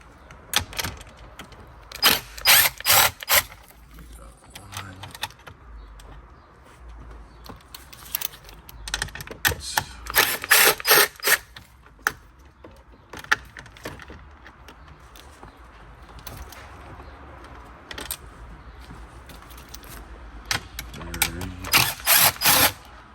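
A ratchet backs out the four 7mm bolts holding the factory 8.4-inch screen in a 2011-2022 Jeep Grand Cherokee, giving several bursts of quick, close mechanical clicking separated by short pauses, with no talking.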